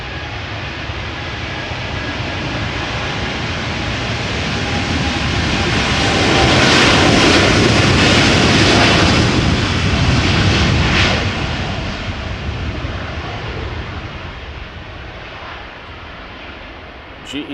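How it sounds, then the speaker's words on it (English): A KLM Boeing 787-10 Dreamliner bound for Chicago departs Amsterdam Schiphol in crosswind, its jet engines roaring broadly and swelling in the middle as it passes, then slowly fading while staying loud from a moderate distance. "Next up, KLM flight 611, Boeing 787-10 Dreamliner to Chicago."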